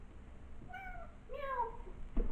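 A cat meows twice in a quiet room, first a short thin mew and then a longer rising-falling meow, close to the listener with faint background noise.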